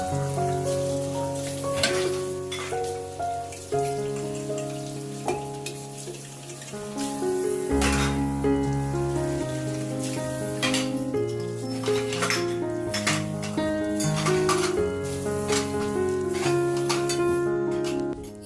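Brass and copper pooja vessels are rinsed with water at home, with splashing and running water over repeated metallic clinks and clanks of the vessels, close and steady throughout.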